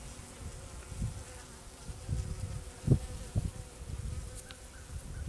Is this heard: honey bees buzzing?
yes